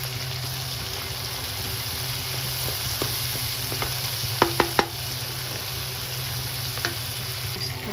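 Sprouted moth beans (matki) being sautéed with a spoon of besan in a pan: a steady low sizzle with a few sharp spoon clinks against the pan partway through.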